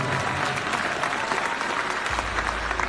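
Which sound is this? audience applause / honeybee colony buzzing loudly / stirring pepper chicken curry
audience applause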